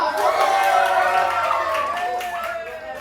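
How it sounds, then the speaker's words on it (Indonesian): An audience at a school Bible quiz competition claps and cheers before a class 3 SMA versus class 3 SMP match. The applause is steady and crowd-wide, with voices mixed in. "Tepuk tangannya."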